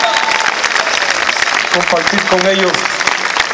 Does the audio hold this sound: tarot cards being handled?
no